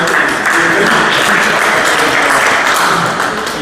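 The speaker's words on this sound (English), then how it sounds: "round of applause for" An audience claps together in a dense, steady burst of applause that carries on throughout and fades slightly at the end.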